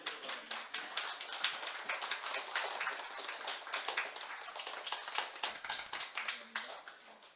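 A church congregation at a Korean Thanksgiving Sunday morning service claps together in a quiet, steady patter of many hands, somewhat distant and uniform throughout.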